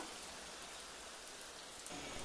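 Heavy rain falls at night on a December evening, making a steady, dense hiss with no voices over it.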